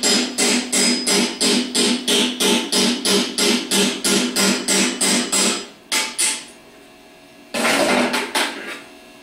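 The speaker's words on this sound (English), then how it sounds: "use the chisel to make a line straight down the side of the bushing" A chisel struck repeatedly against a thin starter bushing clamped in a vise, a fast steady run of about twenty loud metallic taps, then a pause and a short final flurry of blows.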